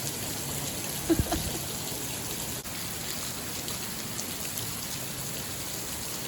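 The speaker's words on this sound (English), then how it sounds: "it's raining cats and dogs" Heavy rain pours down in a dense, steady hiss, with a couple of brief knocks early on and no one speaking.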